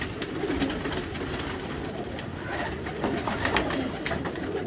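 Pigeons kept on a rooftop coo softly amid a dense, continuous background of bird calls and outdoor noise, with no single voice standing out clearly.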